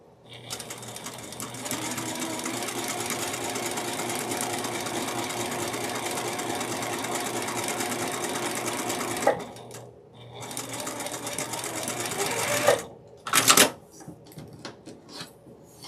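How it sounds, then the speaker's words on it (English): A sewing machine stitching through quilt block fabric, a steady close whirring run of rapid needle strokes for several seconds, then stopping, followed by short bursts and handling noises. "we're going to take this to our sewing machine and we're going to sew just behind the line that we've"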